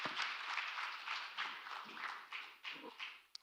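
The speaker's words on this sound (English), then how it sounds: "Applause, applaud, please." An audience applauds at the close of a business summit panel, a faint, distant patter of clapping that comes in uneven waves and fades out near the end.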